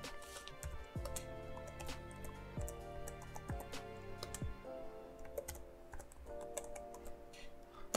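Quiet, close computer keyboard typing as a sudo apt-get command is entered while installing Kali Linux on Windows 10, with irregular light clicks and a few sharper key taps, no voices.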